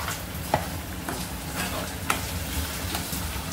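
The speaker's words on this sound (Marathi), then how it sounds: "आता आपल्याला हे मसाला छान भाजायचा आहे।" Onion-tomato masala paste roasting in a pan for chicken pyaza, a dense continuous sizzle with a couple of brief spoon taps and scrapes, close up and without speech.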